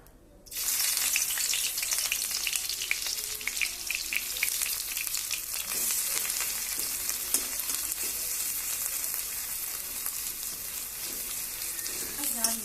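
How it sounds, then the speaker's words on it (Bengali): Onions frying in hot oil in a pan, a loud, steady sizzle that bursts in just after the start and runs unbroken, with scattered crackles and a few stirring scrapes. "তেল গরম হয়ে গেছে, দেখতেই পাচ্ছেন। প্রথমে আমি পেঁয়াজ দেবো।"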